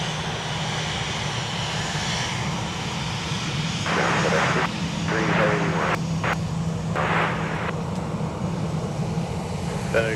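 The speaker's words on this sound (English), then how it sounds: "And there is our Sun Country charter from La Crosse, Wisconsin. On taxiway Mike." A Sun Country charter jet taxis on a taxiway at Minneapolis–St. Paul Airport, a steady engine roar and whine at moderate distance with some brief rumbling swells, while people talk over it.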